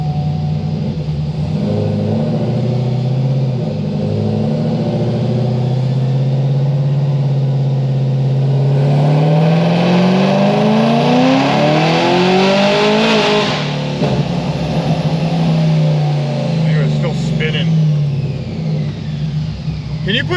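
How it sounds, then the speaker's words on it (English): A car engine revs hard at wide-open throttle with auto upshift engaged on a prepped drag surface, the pitch climbing then dropping as the transmission shifts, loud and continuous with people talking over it. "I like barely went full throttle and then it tried shifting"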